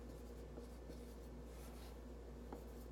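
A pen or pencil writing out an algebraic expression on paper, a soft steady scratching that runs continuously and close up, with no talk.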